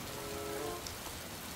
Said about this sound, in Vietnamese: Tại vì trời mưa lớn quá